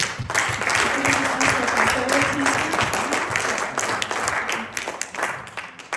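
A church congregation applauds to welcome the pastor, a dense, steady wash of clapping that fills the room for several seconds, with a faint voice or tone threading underneath.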